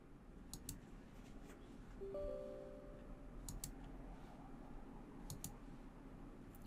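A computer mouse clicks close by during a Windows 10 upgrade, sounding as short, sharp double clicks spread across a quiet room, with a brief soft beep in between.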